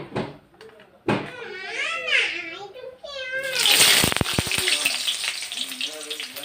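Onion sizzles as it hits hot mustard oil in a pan with bay leaves, a loud steady frying hiss rising suddenly and continuing, with a person speaking over it before and during.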